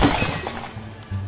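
A glass bottle breaks with a loud, close shattering crash at the start, its bright noise fading into a low hum over about a second.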